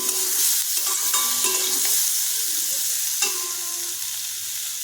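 Steady, close sizzling of mashed green banana frying in a pan, with a few light scrapes and clinks of a utensil stirring; no voices.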